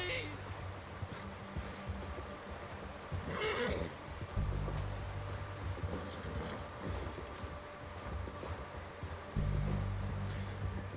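A horse in the Red Dead Redemption 2 video game lets out several whinnies and neighs, with intermittent hoof thuds and ambient rumble, and voices speak in the background.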